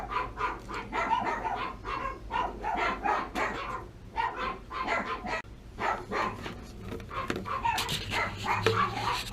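Several dogs bark and yip continuously nearby, a loud overlapping clamor with whimpers mixed in, filling the space around a Rheem water heater being checked for a pilot light that won't stay on.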